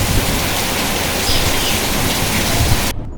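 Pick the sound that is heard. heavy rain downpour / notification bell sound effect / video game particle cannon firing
heavy rain downpour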